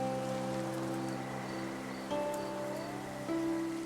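Rain falls steadily in the video game Infinity Nikki, an even hiss blended with sustained tonal background music and a few soft chimes, with no talking.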